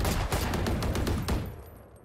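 A burst of rapid gunfire in the Valorant video game, shot through a wall, rattles loudly for over a second in quick repeated cracks and then trails off into a fading echo.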